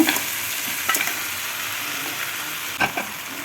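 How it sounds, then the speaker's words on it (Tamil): Chicken pieces frying in a pan with capsicum, a steady sizzle with a few stirring clatters and scrapes of a utensil, heard close with no voices. "இனி நம்ம இதில் சிக்கனை போட்டுக்கலாங்க"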